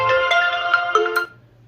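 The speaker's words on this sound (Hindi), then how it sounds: "फोन आ रहा है," Mobile phone ringing with an incoming call, a short melodic electronic ringtone of bright repeating tones lasting about a second and a half before cutting off.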